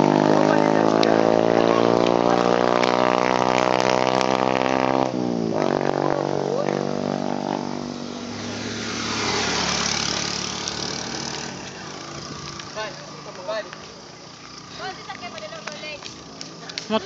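A motor engine runs steadily during a fun run at Lolengs Mountain Resort highway, loud and close at first, then fading and shifting as it moves, with voices talking nearby.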